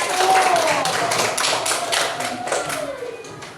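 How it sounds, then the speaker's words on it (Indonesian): A group claps together in a short burst of scattered applause, with voices faintly audible underneath. "Tepuk tangan buat kelompok 1."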